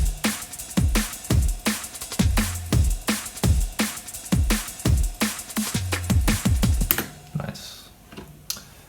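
A produced song's full drum track with breakbeat and cymbals plays alone, punchy rapid hits in a busy syncopated groove with crisp transients, thinning out near the end.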